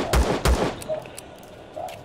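Two sharp gunshots fired in the sci-fi survival game Empyrion Galactic Survival, loud and close, about a third of a second apart, followed by quieter in-game sounds and faint background noise.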